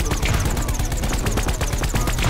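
Rapid automatic gunfire from shooting in Plants vs. Zombies: Battle for Neighborville during a Dreadwood boss fight, a loud continuous stream of repeated shots with game effects layered around it.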